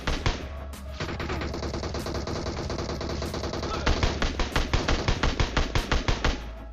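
Rapid automatic gunfire in the mobile battle royale game PUBG Mobile, a dense stream of sharp shots that gives way to a slower run of distinct, evenly spaced bursts near the end, loud and close.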